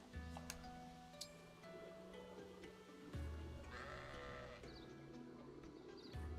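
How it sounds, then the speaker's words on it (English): A sheep in the video game Fire Emblem Engage bleats in a drawn-out wavering cry over soft, tinkling game music, with small clicks and chimes scattered around it. "Sheep."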